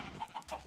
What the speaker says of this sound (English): Yeah, there's about the right number of chickens.